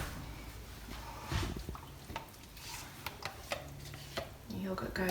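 Yoghurt spooned into a bowl, with soft wet plops and light spoon taps against the rim, faint and close, over a muffled kitchen background.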